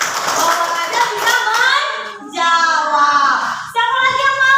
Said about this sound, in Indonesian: Oke, clap your hand, tepuk tangannya nak